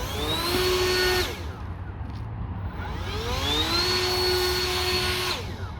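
A blower clearing loose, friable moss debris off a car park: a loud, steady motor whine that rises and falls twice, dropping in pitch briefly in between.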